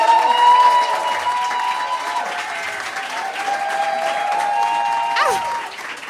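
Audience applause welcoming a stand-up comedian onto the stage at a live comedy show, steady clapping throughout with some crowd noise and someone speaking over it.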